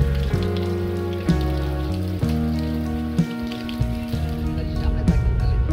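Rain falls steadily at a riverside resort on the Haldi near Kolkata, a continuous patter on surfaces with a few sharper drops, steady in level and with no voices.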